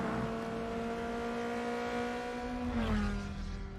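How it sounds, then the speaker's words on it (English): A race car engine in the video game Forza Motorsport drones at a steady high pitch, then drops and rattles over rumble strips near the end, loud and close. "Wow, listen to those rumble strips"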